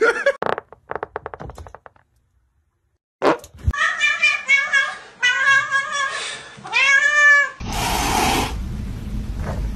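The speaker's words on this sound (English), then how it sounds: "Let me hear a meow." A cat meows several times in a row, close and clear, with drawn-out, rising and falling cries, after some tapping and knocking sounds at the start; a burst of broadband noise ends the sequence.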